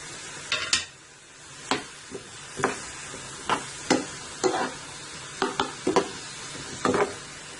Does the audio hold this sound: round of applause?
no